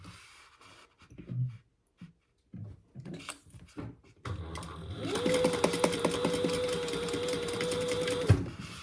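A sewing machine stitching a dart on a fabric clutch starts up after some soft handling noises and a few spoken words, then runs steadily in a fast, even whir for several seconds before stopping.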